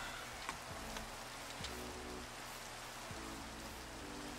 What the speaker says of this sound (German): Aber dieser Regen.